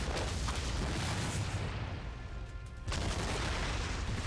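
Rockets striking in a Napoleon Total War multiplayer battle between Britain and France on Prussian hills: a dense, loud, continuous roar of explosive rumbling that dips briefly in the middle, then surges back.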